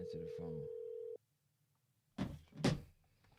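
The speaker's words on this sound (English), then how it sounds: "Let me call Campos right now." A telephone call placed during a live broadcast rings out: a steady dial or ring tone holds for about a second, then cuts off, followed by silence and two louder clattering bursts of handset noise.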